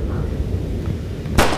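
A single sharp gunshot in Resident Evil 4 on Android, fired at a zombie, cracking out near the end after a low steady game background.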